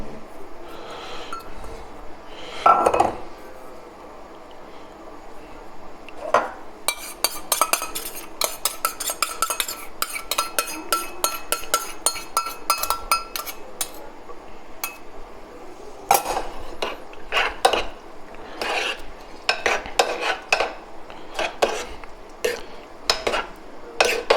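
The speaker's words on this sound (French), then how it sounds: "prendre notre mozzarella, notre tomate et on va la mélanger. Voilà, on mélange le tout." Utensils clink and scrape against a bowl while mozzarella and tomato are stirred together for panzerotti filling, with scattered irregular taps and scraping strokes at close range, mostly alone and with no talking.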